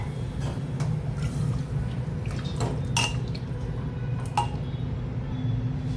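Metal clatter of a pressure cooker lid being fitted onto the pot of chicken rassa, a few sharp clinks and knocks over a steady background hum in a home kitchen.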